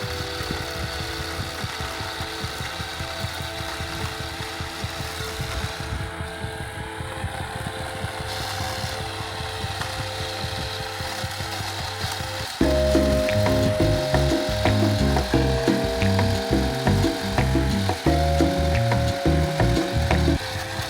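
A chainsaw chews into a stubborn bush outdoors, its engine droning steadily, then revving harder and louder halfway through as the chain bites into the wood, close and continuous with no talk.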